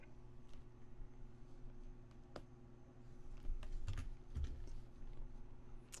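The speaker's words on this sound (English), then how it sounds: "So I'm going to type in Snellville." Quiet typing on a computer keyboard while a city name is entered into a Facebook lead ad form, with sparse, soft key clicks over a low background hum.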